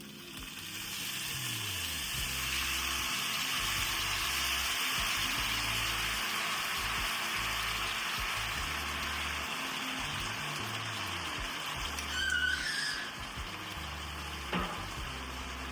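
Sweet chili wing sauce cooks in a pot with a steady, loud bubbling sizzle and watery hiss that runs almost unbroken, broken near the end by a few brief clinks and scrapes.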